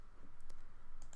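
A few sharp computer mouse clicks on a drawing program's OK button, a quick close pair followed by another pair, faint against a soft room hum.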